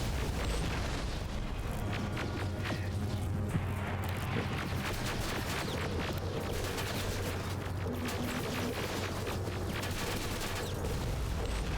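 Grenade blasts in a Terminator video game, rumbling booms layered over dense, continuous battle noise that stays loud and steady throughout with no voice.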